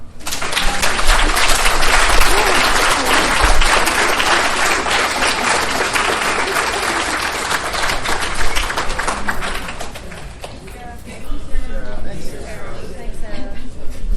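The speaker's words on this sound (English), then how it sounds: "can we just give another round of applause" Audience at a grief-in-recovery meeting applauding loudly and steadily, the clapping thinning out toward the end as voices and a few scattered claps remain.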